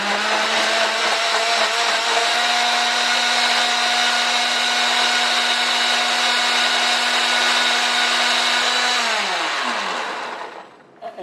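A blender purees a honey, cilantro and scallion marinade with a loud, steady whine that runs for several seconds, then spins down and stops near the end.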